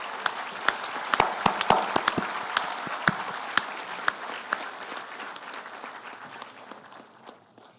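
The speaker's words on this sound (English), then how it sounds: "please a loud applause for your parents who are here today." Loud applause from a large audience at a university graduation ceremony, with dense, sustained clapping and sharp individual claps standing out, tapering off gradually toward the end.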